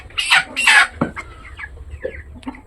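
Young broiler chickens about 23 days old clucking: a few close, loud clucks and squawks in quick succession, then softer scattered clucks, with no talk.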